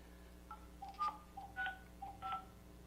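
Telephone keypad tones beep in a quick series of about five separate dial presses, faint and close, over a low steady hum during a customer service call.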